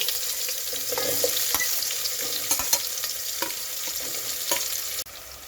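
Sliced onions with star anise, bay leaf and whole spices fry in hot oil for an egg kushka biryani, a close, dense sizzle broken by spoon scrapes and light knocks against the pot, stopping abruptly near the end.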